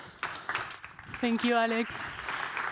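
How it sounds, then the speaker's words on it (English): Applause rises from a panel discussion audience on open innovation in health as a speaker is welcomed to the stage. Spoken thanks from a nearby voice cut across the clapping. "a big applause for her"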